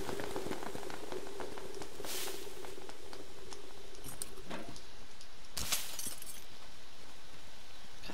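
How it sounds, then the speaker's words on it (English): Rain in the video game Metro Exodus, a constant patter of drops across surfaces at a low level, broken by a few sharper cracking or shattering bursts. "it's raining and snow"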